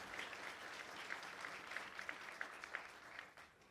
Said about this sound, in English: So let's just take a moment, y'all, and clap it up for everyone here and everyone who is not here